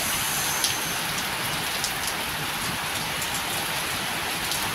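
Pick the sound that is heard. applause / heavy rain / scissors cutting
heavy rain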